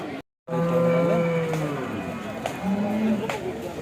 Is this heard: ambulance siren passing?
no